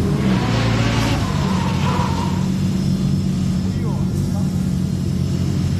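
A drift race car engine revs loudly at a Russian Drift Series event, a sustained roar with rising throttle swells, mixed with nearby chatter and crowd noise.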